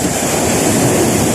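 Sea waves and gusty wind out on the water while fishing on a windy day, a steady, loud broadband rush with no distinct breaks and no voices.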